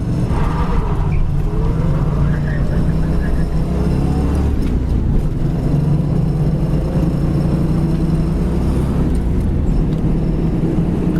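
A blue 1971 Ford Mustang Mach One cruises down the road at about 65 mph, a loud steady rumble of engine and road noise from inside the car, with a voice talking over it.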